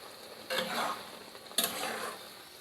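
Arum lobe curry with mustard, poppy seed and coconut is stirred in a pan after a little water goes in, two short scraping bursts over a quiet simmering hiss.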